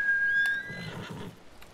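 A horse in the video game Ghost of Tsushima lets out a single high whinny that shudders and fades, followed by low snorting breaths, heard close and alone.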